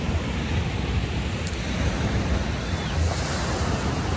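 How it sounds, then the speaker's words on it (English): Ocean surf on a beach at Cap-Haïtien, Haiti, a steady broad wash of waves with wind buffeting the microphone, loud and continuous with no one speaking. "So we just got to the beach now."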